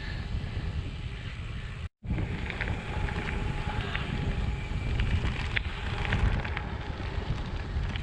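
Strong wind buffets the microphone while a vehicle drives a gravel road in Loudoun County, Virginia, a steady roaring rush throughout with a brief dropout near two seconds.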